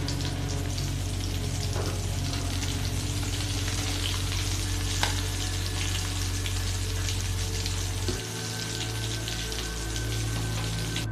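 Fish coated in crushed rusk crumbs fries in oil, a continuous close crackling sizzle over a low droning hum that drops partway through, with scattered sharp pops and no talking.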